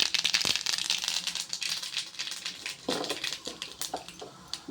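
Mustard seeds and urad dal dropped into hot oil, a steady close crackling sizzle with many small pops and spatters throughout.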